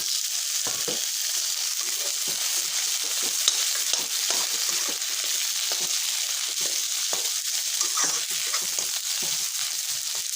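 Tomatoes hit a hot pan for a Bengali prawn malai curry, giving a steady close sizzle of frying with intermittent scraping stirs throughout, no voices.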